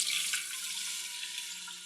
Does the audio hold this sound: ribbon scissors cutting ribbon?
no